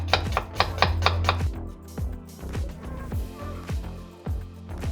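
An onion is chopped on a cutting board with a knife, a quick burst of sharp, evenly spaced cuts followed by slower, irregular strokes, all close and fairly loud.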